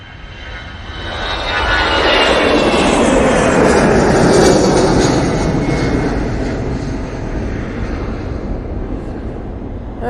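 An airliner wearing 88 decals rolls for takeoff at Manchester Airport, its jet engines building to a loud, broad roar that swells over several seconds, peaks, and then eases slightly as it passes, with no talk over it.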